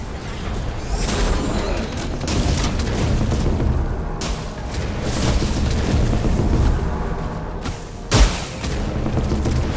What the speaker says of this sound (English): Your team has destroyed a middle enemy tower.